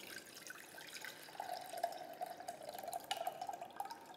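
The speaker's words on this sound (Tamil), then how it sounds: "ஒரு எலுமிச்சங்காய் அளவு புளி தண்ணியை 1/2 கிளாஸ் தண்ணி எடுத்து ஊற்றிருக்கோம்" Tamarind water, about half a glass, poured into a traditional eeya sombu rasam tin, giving a faint, steady trickle and splash that lasts several seconds with no talking.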